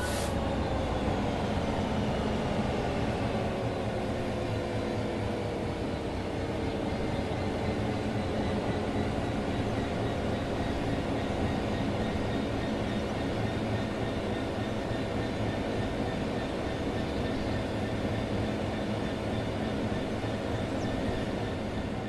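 A train coasts on level rails in the simulator game Train Sim World 3, giving a steady low rumble and rolling drone with faint tonal hum, continuous and unchanging, no voices.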